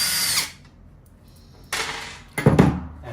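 Power drill driving out screws from a Floatwheel ADV footpad: a short whirring burst at the start, a pause, then two more brief buzzing bursts close by.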